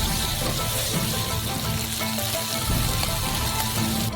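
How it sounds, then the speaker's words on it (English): Black beans frying in a frying pan, heard as a steady, close crackling sizzle that runs without a break, with no talking. "First, fry them a little bit."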